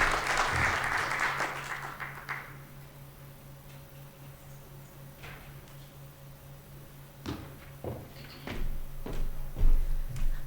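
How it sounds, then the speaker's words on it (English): A burst of audience applause at a science conference that fades out after a couple of seconds, followed by scattered knocks and shuffling in a quiet room. "Another round of applause, ladies and gentlemen."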